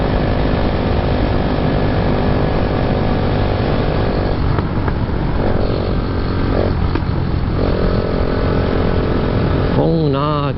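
A motorcycle engine with a sticking carburettor throttle slide on a road ride in Vietnam, droning loud and steady throughout under constant wind noise, with the revs hanging high; someone talks briefly near the end.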